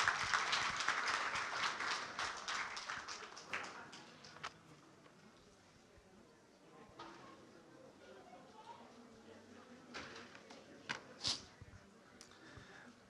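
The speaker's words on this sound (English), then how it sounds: "Let's give him a big round of applause and a warm welcome." An audience at a Brownsville hurricane awareness fair applauds a presenter. The applause opens full and dense, then tapers off over several seconds, followed by quieter room sound and a few scattered claps and knocks.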